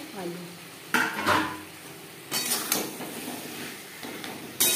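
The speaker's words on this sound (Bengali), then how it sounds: "3-4 মিনিট রান্না করে নেওয়ার পর দিয়ে দেবো আলু।" A metal spoon scrapes and knocks against a pan as potatoes are added and stirred into a tangra fish curry, with several sharp clanks and softer scraping between them, close-up.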